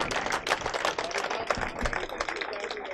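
Audience at a Hyderabad mushaira poetry gathering clapping, a dense, steady patter of many hands at moderate distance with no voices over it.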